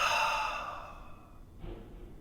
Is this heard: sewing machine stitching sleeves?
no